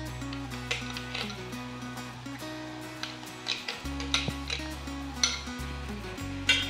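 Masala paste and golden-fried onion sautéed and stirred in a pan in a home kitchen, with a spoon clinking and scraping against the metal at irregular intervals over a steady tonal backdrop.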